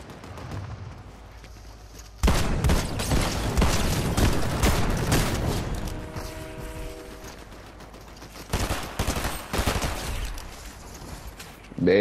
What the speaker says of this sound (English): they're shooting at dudes right here